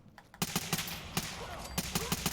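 Rapid .45 pistol shots from the video game Fallout 4 fire in a quick, loud, close string of sharp cracks, about a dozen shots with a short gap partway through.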